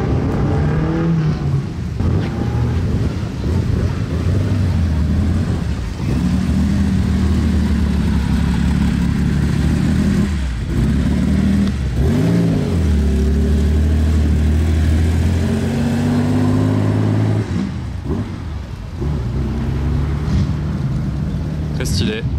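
An old Porsche engine starts and revs nearby at a car meet, a steady low rumble with swelling throttle blips throughout, voices talking over it.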